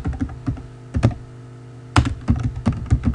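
Name being typed on a computer keyboard: bursts of sharp, close key taps in uneven clusters, with a brief pause in the middle before a fresh run of keystrokes, no voices.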